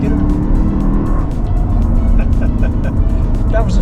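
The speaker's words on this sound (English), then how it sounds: "Off, turn the wheel, off the brake, start giving it some gas." A Lexus on a race track powering hard out of a corner, engine loud and sustained with tire noise, while an instructor talks over it.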